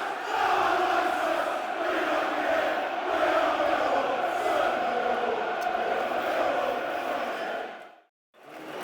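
Football crowd at Millwall's stadium during a match against Southampton roars and chants as a dense, sustained mass of voices, holding steady before cutting out abruptly near the end.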